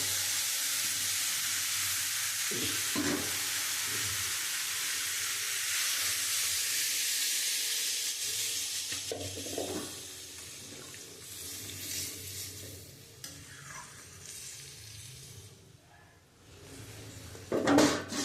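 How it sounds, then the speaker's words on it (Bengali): Water is poured into a pan of fried spices for a mixed-vegetable vegetarian curry, giving a loud, steady hissing sizzle for several seconds that gradually thins into quieter, intermittent bubbling and clatter. "এবার আমি পরিমাণ মতন জল দিয়ে দেবো।"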